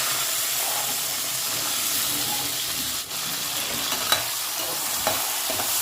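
One and a half cups of green peas frying in hot oil left from frying potatoes, a steady close sizzle and hiss with scraping stir strokes and a couple of sharp clinks, no talking.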